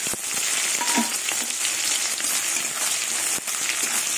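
Green chilli and onion frying in oil, with radhuni seeds already in the pan for a katla fish head curry: a steady, close, dense sizzle runs throughout, with a few faint spoon scrapes and a brief dip near the end.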